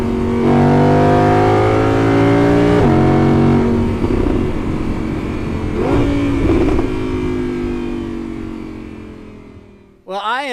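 Engine of a 2017 Audi R8 on a test drive, a loud sustained roar with rising and falling harmonic tones as it accelerates, shifting pitch around the third and sixth seconds, cutting off abruptly near the end.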